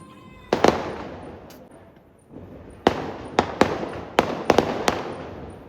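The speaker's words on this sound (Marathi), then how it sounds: "गाईस फटाके फुटतायत. ढम ढम ढम." Firecrackers burst at night near a dock, a loud pair of sharp cracks followed by a rapid, uneven string of bangs, each trailing off into a hissing decay.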